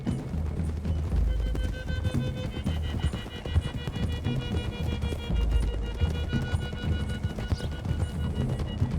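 Several horses gallop together in Red Dead Redemption 2, a dense, continuous drumming of hooves on a dirt road close by, with an occasional faint snort, running steadily without a break.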